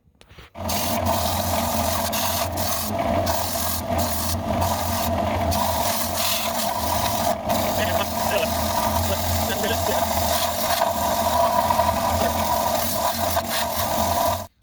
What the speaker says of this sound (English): I'm going to go ahead and get on the belt sander, clean this one up, shape it a little bit more